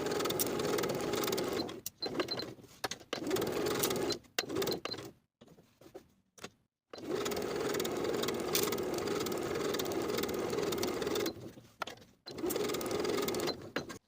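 A sewing machine edge stitching along the finished inner edges of pant pieces, running in long continuous whirring bursts separated by short pauses and a longer break, close and steady.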